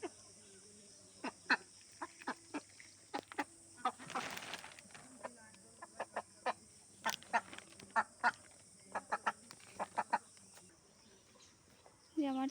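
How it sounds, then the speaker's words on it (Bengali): A duck comes up to eat and quacks in a series of short nasal calls, some in quick pairs, fairly close over a quiet outdoor background with a brief rustle in the middle. "হাঁসে খাবার খাওয়ার জন্য একটা এসেছে।"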